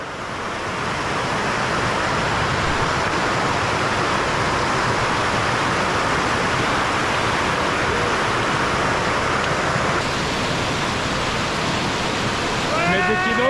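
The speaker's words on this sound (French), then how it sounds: "Petit torrent à traverser." A small mountain torrent that must be crossed on foot rushes with a loud, constant roar, close and unbroken throughout, with faint higher sounds creeping in near the end.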